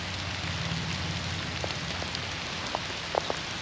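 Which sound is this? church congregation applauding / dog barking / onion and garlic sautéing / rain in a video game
rain in a video game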